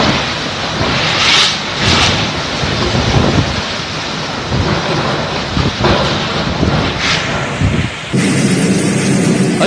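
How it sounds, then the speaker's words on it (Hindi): Cyclone Nisarga lashing Alibag with heavy rain, a loud, steady roar of downpour and gusting wind buffeting the microphone for the whole stretch, with no voices. "निसर्ग तूफान की ताकत और उसकी रफ्तार का अंदाजा इन तस्वीरों के साथ साथ इस आवाज से भी लगाया जा सकता है"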